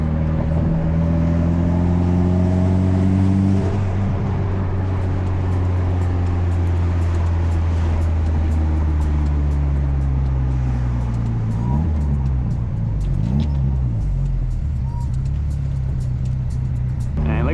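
A Mitsubishi Evo X idles and rumbles loudly nearby, with a deep steady engine drone whose pitch shifts slightly and then wavers as the turbo spools, continuous throughout with no voices.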